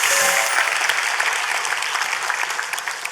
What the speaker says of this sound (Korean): 이 작품에 박수 한번 좀.